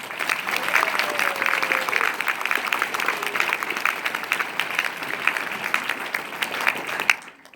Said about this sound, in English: let's take this moment to give a round of applause to the people who never stopped believing in us